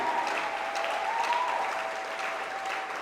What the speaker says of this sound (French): Une louange d'acclamation pour la gloire de notre Seigneur